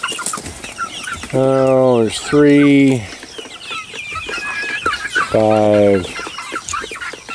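Roosters and hens in a pen cluck and squawk close by, with several loud drawn-out calls standing out over softer chatter, while a person speaks briefly.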